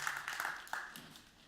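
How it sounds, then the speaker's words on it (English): Scattered audience applause at a startup founder stage event, faint and distant, with light clapping fading out over a second and a half. "So please give a big applause to Ivar on the stage."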